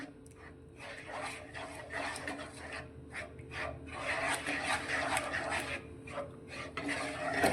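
Semolina and milk being worked into a stiff dough in a pan, giving a steady scraping, rubbing texture with repeated strokes of the spoon, close and moderately quiet throughout.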